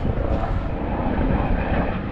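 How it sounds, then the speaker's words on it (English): A helicopter flies overhead above a snowy winter woodland, a steady loud droning engine roar that stays constant throughout, with no talk. "Oh, there's a chopper out."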